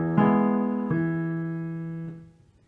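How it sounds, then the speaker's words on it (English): A single low E played on the piano with the left hand, struck three times in a row. Each strike rings out with a rich, sustained tone that slowly decays until the last note fades away, with no voices. "you're just going to play this E with your left hand"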